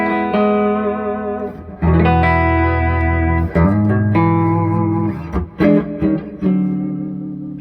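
Electric guitar played through an amplifier with reverb and an EQ pedal engaged, sustained chords and ringing single notes with brief pauses, loud and close, heavy with effects.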